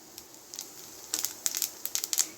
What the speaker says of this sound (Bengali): অনেকটা তেল আছে, জিরে ফোড়ন দিয়ে দিলাম